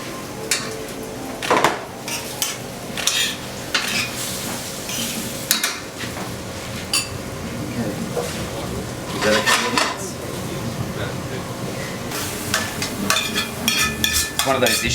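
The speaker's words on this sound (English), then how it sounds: "Don't want to be mixing this too much, because otherwise the eggplant's going to turn into mush" A spoon stirs eggplant through pasta sauce in a pan, making repeated clattering scrapes and knocks against the metal with a soft sizzle underneath, fairly close and continuous.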